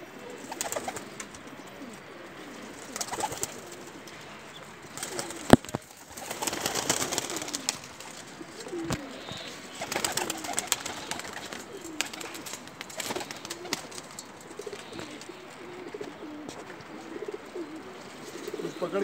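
Pigeons coo repeatedly at a loft in Islamabad, soft throaty calls layered over a steady chorus of other birds, with a few sharp knocks and brief bursts of louder activity through the scene.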